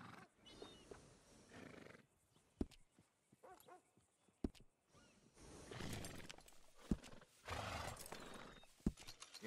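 Horse in Red Dead Redemption 2 whinnying and snorting among clip-clopping hooves and other animal calls, with sharp bursts and quieter gaps over a few seconds.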